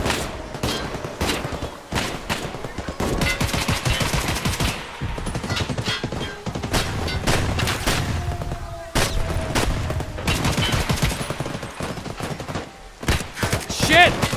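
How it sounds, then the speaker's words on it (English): An AK-308 rifle in Escape From Tarkov fires in rapid bursts and clusters of sharp shots, loud and close, separated by brief pauses over a steady background hum. "An AK-308."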